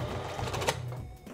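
A sewing machine runs in a short burst, a close mechanical whirring with a rapid clatter and a sharp click partway through, then slows and stops.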